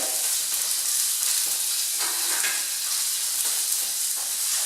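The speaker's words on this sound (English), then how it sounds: "I can hear my duck breast sizzling away." Duck breasts sizzle steadily in a hot frying pan, a dense continuous crackle of fat with small pops and stirring touches, close and alone with no voices.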